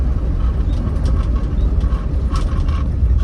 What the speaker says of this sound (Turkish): Sesi soluğu, şanzıman, vites geçişleri falan muazzam güzel.